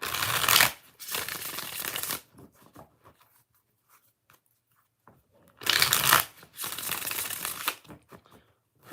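Tarot cards being shuffled by hand, two close bursts of riffling and sliding card noise, each lasting about two seconds, separated by a quiet gap with faint handling sounds.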